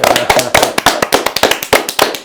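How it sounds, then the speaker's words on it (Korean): A small group in a studio claps in support, a run of sharp, close hand claps at an uneven fast rhythm, loud and alone without talk. "다 같이 응원의 박수 한번 보내겠습니다"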